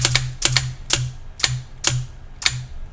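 An Autococker paintball marker fires without its cocking rod, giving a quieter report: six sharp, dry clicks at a steady pace of about two per second, close and alone.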